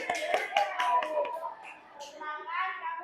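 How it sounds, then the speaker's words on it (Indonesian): Schoolchildren in an elementary classroom clap for a presenting group. The clapping comes in a quick scatter of claps over the first second or so, then fades as young voices take over. "kita beri aplaus untuk kelompok persegi panjang"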